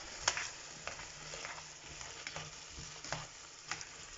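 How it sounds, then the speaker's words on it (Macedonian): An Indian dish of red pepper with seasoning and salt is stirred as it fries in a pan. The steady, close sizzle is broken by repeated scraping strokes spread through the stretch, and no one speaks. "Сето тоа го мешате."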